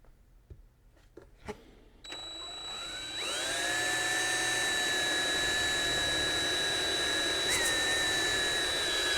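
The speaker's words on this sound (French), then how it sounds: "je vais faire un trou avec la perceuse à chaque coin" A power drill bores holes into the corners of a plastic part, starting after a few light knocks and then running as a steady, loud, high whine that holds to the end.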